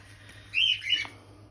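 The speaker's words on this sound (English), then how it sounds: "do apologise about the birds, they're on one today." Indoor birds give two short bright chirping calls close together in the background. A low steady hum sits underneath.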